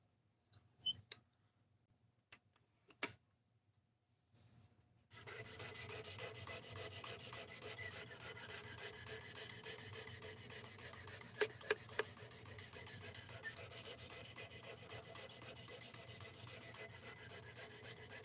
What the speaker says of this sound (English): Sharpening is going just fine, my dude.